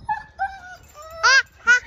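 A dog whimpers and yips in a series of high, whining cries, several short tones followed by two louder, sharper yelps, close by with no talking over them.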